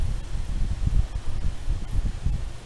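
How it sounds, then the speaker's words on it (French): Strong wind buffeting a dictaphone in woods on a rainy day, a steady low rumbling roar with gusty surges throughout, no voices. "étant donné qu'il y a beaucoup de vent"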